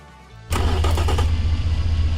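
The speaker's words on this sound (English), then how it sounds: "the engine is idling at 700 RPM" A 4,170 horsepower V16 car engine in a video game fires up suddenly after a quiet lead-in and then settles into a loud, steady, deep rumbling idle at 700 RPM.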